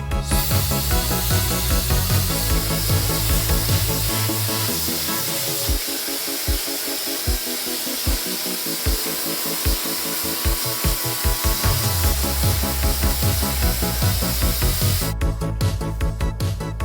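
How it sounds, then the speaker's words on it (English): Steady, loud blowing of a hair dryer runs throughout, with brief dips and pulses as the airflow shifts, close to the listener and without talk. "I'm gonna take my hairdryer, blow dry this"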